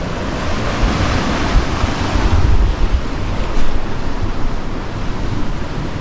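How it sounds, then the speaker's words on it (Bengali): Sea waves at Tajpur beach heard from a beach shack above the water, a loud continuous wash of surf with wind buffeting the microphone, swelling in the middle and with no voices. "আমার সামনে কিন্তু এখন সমুদ্র, আমি সমুদ্রের ওপর শ্যাকের ওপর দাঁড়িয়ে রয়েছি।"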